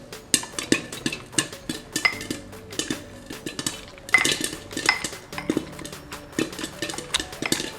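The end of a spoon muddles strawberry, mint and lime in a glass, with close, rapid clinks and knocks of metal against glass in an uneven rhythm that carries on throughout, with no talk over it.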